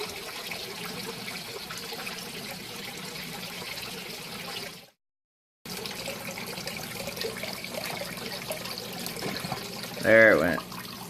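Water trickles steadily through a siphon in a mini indoor aquaponics setup built from half of a 55-gallon drum. The flow pauses briefly, resumes, and ends with a short gurgling burp.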